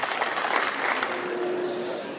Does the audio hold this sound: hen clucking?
no